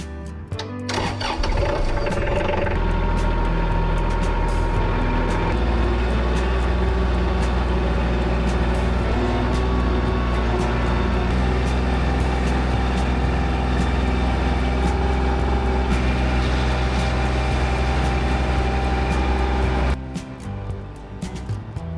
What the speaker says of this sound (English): the tractor scooping buckets of chips and putting them in the dump trailer